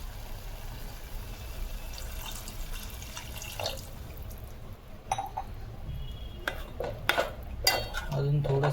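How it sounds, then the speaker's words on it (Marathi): Water is poured into a pan of fish curry masala with chilli powder, garam masala and onion-garlic, producing close splashing and dripping, then scraping and clinking of a spoon against the pan, louder toward the end. "तर आता आपण थोडं पाणी घालून घेऊया याच्यामध्ये"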